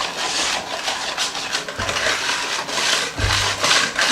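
Nectarine muffin batter being whisked in a bowl, giving a continuous close rasping and scraping with a quick, rhythmic back-and-forth texture and no talk.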